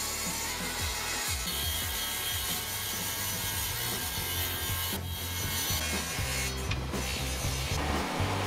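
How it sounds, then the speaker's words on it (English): Table saw ripping pallet wood slats into 3-inch strips, a continuous loud grinding buzz of blade through wood, with shifting tone as each slat feeds through. "I went over to the table saw and cut all my slats down to 3-inch strips."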